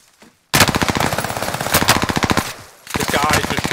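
Rapid automatic gunfire from a shooter video game rattles out in loud, dense bursts, a brief pause breaking two long volleys.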